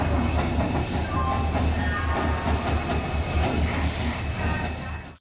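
A train rolls into a station with a steady low rumble, metallic rail clatter and faint high squeals of wheels, loud and close throughout before cutting off.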